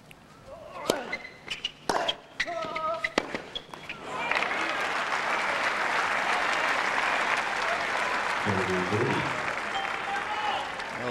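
A large tennis crowd at a Gambill versus Agassi match in Los Angeles bursts into loud, sustained applause and cheering after a few sharp claps and court sounds, filling the rest of the stretch.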